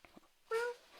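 A person's voice imitates a cat's meow, a single short, faint mew after a moment of near silence.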